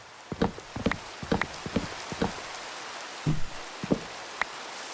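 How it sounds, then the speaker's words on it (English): Rain falling in the game Minecraft, a scattered patter of soft individual drop taps at an uneven rhythm, moderately quiet with no speech. "it's raining."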